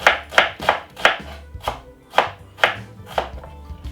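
Half a white onion is diced very small with a knife on a cutting board, about ten crisp, close chops in an uneven rhythm, with no talking.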